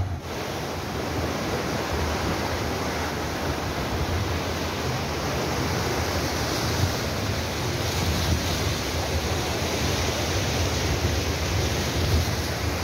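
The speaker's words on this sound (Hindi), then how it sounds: "मच्छर का पानी यहाँ से खारज होकर दरिया सिंध में दाखिल हो रहा है" Water pours out of Manchar Lake into the Indus River, a steady, loud, broadband rush with no pauses and low wind-like rumble, heard close and alone throughout.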